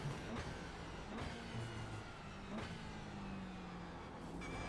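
Race car engine in the iRacing sim held at a steady drone, a low continuous hum with faint harmonics and slight pitch shifts, nearby and fairly quiet, with no talking.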